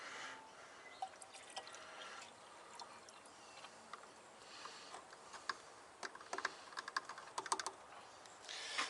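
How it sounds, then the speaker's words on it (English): Coolant is poured into a Ford BA Falcon's cooling system: a faint, quiet trickle with irregular drips and small ticks that grow busier toward the end, with no talking. "so we just pour it in"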